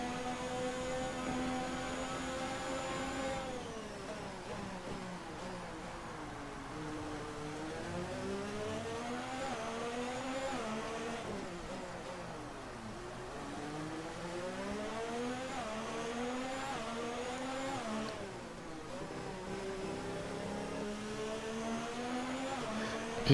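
F1 2019 race car engine howling through gear changes on a wet Singapore track in the video game, rising and falling pitch sweeps repeating steadily, loud and continuous with no talk.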